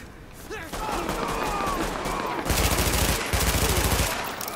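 A main gun fires in The Division video game: sustained rapid bursts of automatic fire, loud and close, with a brief pause between two long volleys, over background game noise and a talking voice.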